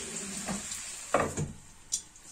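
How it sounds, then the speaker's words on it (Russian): Potatoes fry in a pan with a steady background sizzle, broken by a few brief clinks and stirring knocks near the front, no voices. "Сейчас пусть картошечка жарится."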